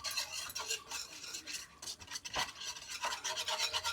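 A mixture stirred in a cooking pot, added a little at a time, giving a soft, continuous scraping and rubbing at close range, faint and steady, with no talk.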